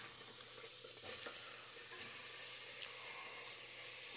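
Onions frying in a pan for homemade biryani give off a steady, soft sizzle and hiss, with faint stirring scrapes throughout.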